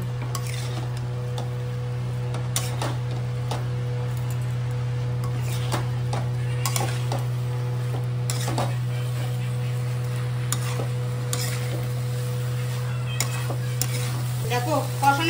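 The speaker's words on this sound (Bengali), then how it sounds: "চিংড়ি মাছগুলো দিয়ে একটু নেড়ে" Prawns fry and get stirred in a pan with a faint, continuous crackle and scattered light scrapes, over a steady low electrical hum.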